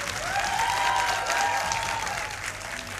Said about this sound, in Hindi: तालियों के साथ आपका बहुत बहुत स्वागत है